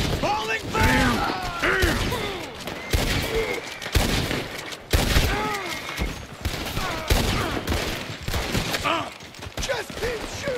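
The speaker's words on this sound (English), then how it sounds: "Just keep shooting!" Rapid, dense gunfire fills a Red Dead Redemption 2 shootout, with bursts of shots repeating in waves over loud shouting voices throughout.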